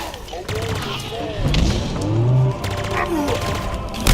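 Stick grenades thrown in Halo Infinite, bursting in a few sharp booms among weapon fire and shifting engine-like tones, with a voice talking over the action.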